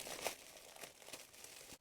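Decorative paper handled and crinkled by hand, a short close burst of crisp rustling and crumpling with a few sharper crackles, alone without talk.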